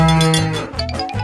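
A cow gives one long, loud, close moo, deep and sustained with slight wavering in pitch.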